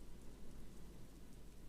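Steady rain falls in the video game Disco Elysium, a soft, even hiss of drops with no pauses and no voices, fairly quiet throughout.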